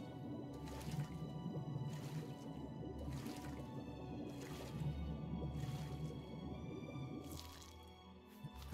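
Swimming through water in The Elder Scrolls Oblivion, rhythmic sloshing strokes repeating about once a second with soft dripping and splashy squishes, steady and close under faint background ambience.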